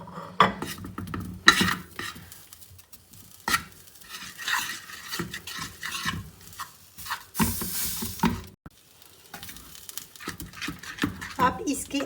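Flour fries in a pan for chicken cheese boti kabab while a spoon stirs and scrapes busily against the metal over a light sizzle, with a voice talking throughout.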